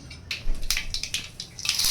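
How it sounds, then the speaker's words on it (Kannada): Mustard seeds crackle as they hit hot oil in a pan for mango rice, a close burst of bright popping and sizzling spatters that swells toward the end, with no voices. "ಒಂದು ಬಾಣಲೆಗೆ ಎಣ್ಣೆ ಹಾಕ್ಕೊಂಡಿದ್ದೀನಿ ಎಣ್ಣೆ ಕಾಯ್ದ ನಂತರ ಸಾಸಿವೆ ಹಾಕ್ಕೊತಾ ಇದ್ದೀನಿ"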